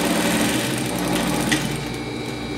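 A sewing machine runs continuously and close while backstitching a dress seam sewn on the wrong side, a dense steady whirr with no pauses.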